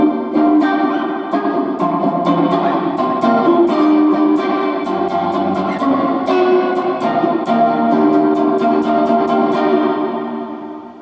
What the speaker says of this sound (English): let's turn on the Hall Reverb JHS along with the Joyo and along with the delay part of the Donner.